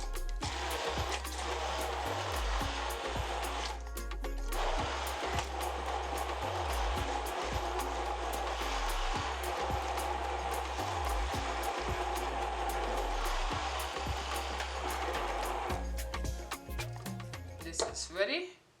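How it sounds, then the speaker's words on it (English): Blender pureeing mango pulp, a loud steady motor whir with pulsing low-end churning that runs nearly the whole time, then winds down and stops at the end. "I'm going to go ahead and puree the mangoes."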